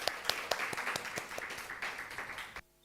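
A church congregation claps in applause, a run of quick, uneven claps over a soft background wash that stops abruptly near the end.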